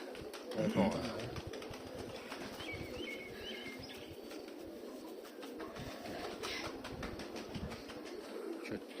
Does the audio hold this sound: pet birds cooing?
yes